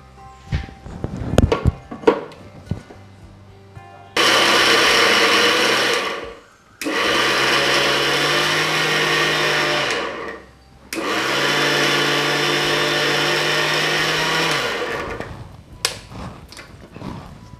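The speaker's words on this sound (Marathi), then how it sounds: "आतां हे सगळे घाले आनी आतां मिक्सराचेर ते वांटून घेता." A kitchen mixer grinder blends ingredients for a Goan recipe in three loud, steady bursts of a few seconds each. Short pauses separate the bursts, and faint handling clatter comes before and after.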